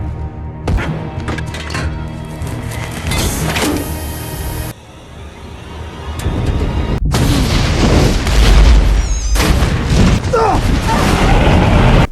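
A house explosion from the 2011 film Fright Night sounds as a loud booming roar with crashing debris, dropping off sharply before a second heavy rumbling blast builds and carries on.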